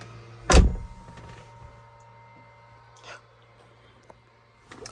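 A brief mechanical whir of a Volkswagen Polo's power window opening, followed by a couple of faint clunks and a steady low hum in a quiet cabin.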